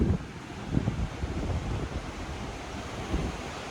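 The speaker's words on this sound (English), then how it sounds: "I like the waves when they're crashing like this and you just hear them rolling over and crashing onto the gravel" Waves roll in and break on a pebbly beach in a steady wash during a storm with high tides, with a few louder surges and wind rumbling against the microphone.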